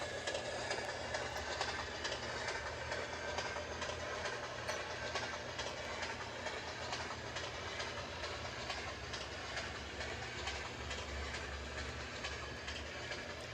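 An MTH Christmas model train runs with a steady rolling rumble and repetitive click-clack of its wheels, close and continuous without pause.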